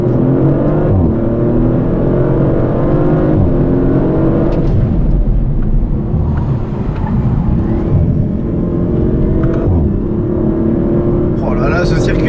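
A 2023 Audi RS5 Competition Plus accelerating hard around the Ascari circuit, a loud, continuous engine roar rising through the gears from inside the car, with a voice talking over it.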